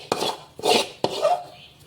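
Food is served from a pot onto a metal plate in a home kitchen, giving three separate scraping, clattering bursts of utensil on metal, close and moderately loud with no voice.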